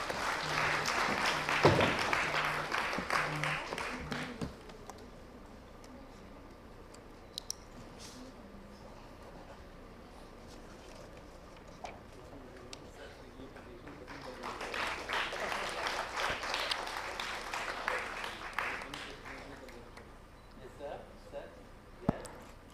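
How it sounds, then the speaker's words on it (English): Audience applause at the opening ceremony of ICSE 2023, a burst of clapping at the start that fades into low room noise, then a second swell of applause later on. "Can we have a great round of applause,"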